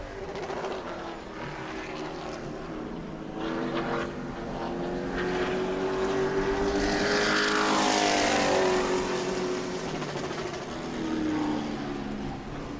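A race car engine roars on track during a Sportsman group qualifying lap at New Smyrna, swelling as it passes near, its pitch sweeping down, then fading into the distance.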